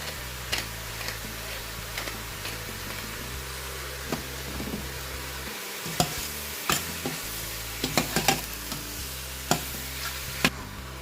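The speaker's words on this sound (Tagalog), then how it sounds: "Let's just continue frying the mushroom until we can see some water coming out." Mushrooms seasoned with salt and black pepper fry in a pan with a steady soft sizzle, broken by scattered clicks and scrapes of stirring; no voices.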